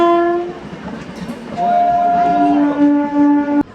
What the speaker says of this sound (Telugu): పెనుగొండ నుంచి మన ట్రైన్ బయలుదేరింది.